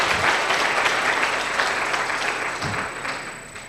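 Audience applause at a small business workshop in Orange Farm, steady and fairly loud dense clapping throughout, slowly tapering near the end.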